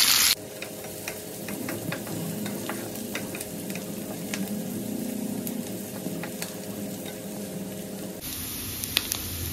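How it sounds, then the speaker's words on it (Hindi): Onions and garlic sizzle steadily in a pan, a continuous close crackle with scattered pops and faint stirring, no voices. "यहाँ प्याज और लहसुन पक चुके हैं गोल्डन ब्राउन।"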